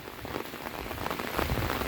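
Heavy rain pouring down in the countryside, a dense, steady patter of drops hitting surfaces close by, with no voices.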